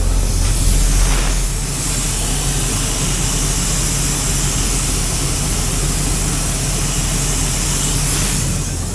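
Air escapes from a leaking truck brake chamber as a loud, continuous broadband hiss, close and unbroken throughout, with a deep rumble underneath and no speech.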